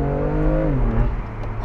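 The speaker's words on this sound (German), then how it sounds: "du merkst halt wirklich, dass die Turbolader hier richtig reinballern" Turbocharged BMW M2 Competition engine pulls hard under acceleration with traction control switched off. The loud, close engine note drops in pitch partway through, like a gear change, and no voices are heard.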